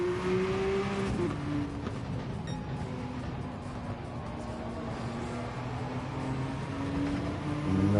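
McLaren F1 race car engine in Gran Turismo 7, a loud sustained droning whine that shifts pitch with gear changes and revs, with some tire noise and rising acceleration near the end.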